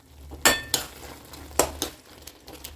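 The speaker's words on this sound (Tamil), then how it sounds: "இந்த மாதிரி இருக்கிறதெல்லாம் கொஞ்சம் நல்லா நசுக்கி விடணும்." Spoon pressing and mashing tomatoes cooking in oil in a pan, giving a few sharp metallic scrapes and clinks against the pan over a faint low sizzle, with quieter stirring between.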